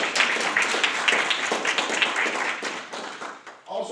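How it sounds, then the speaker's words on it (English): Applause for students at a school board meeting fills the room with close, brisk clapping that stays fairly loud, thins toward the end, and gives way to a voice starting to speak at the close. "let's give our students a round of applause"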